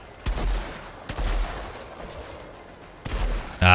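Bursts of gunfire in the shooter game Outriders, several loud close volleys spaced a second or two apart, with a rapid rattling burst at the end.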